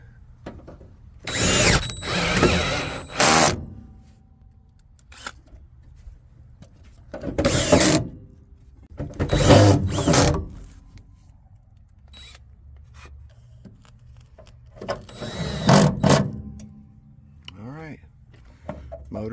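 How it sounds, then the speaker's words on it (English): A power drill whirs in several short, close bursts as screws drive in a blower motor on a Trane commercial package heating unit, with quiet pauses and small clanks between runs. "Screwing in the blower now, because we got all this lined up."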